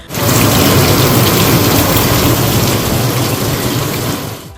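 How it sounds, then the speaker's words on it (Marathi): Moderate rain falls over Solapur city in a dense, loud, steady hiss of drops striking surfaces, holding evenly for several seconds before tapering off. "आज बऱ्याच दिवसांनंतर सोलापूर शहर आणि परिसरात मध्यम स्वरूपाचा पाऊस पडतोय"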